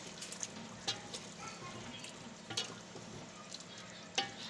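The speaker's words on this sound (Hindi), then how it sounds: "आपने चॉप हुए हुए इसमें ऐड कर देना है और इसे अच्छी तरह से कर लेना है मिक्स" Chopped brown onions stirred into dahi chicken korma frying in a pan, a soft, steady sizzle with occasional light clicks and scrapes of the spoon, fairly faint and without talking.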